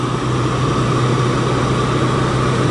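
A Volkswagen car engine idles steadily with the air conditioning running, a loud, close, continuous low hum and hiss with no talk.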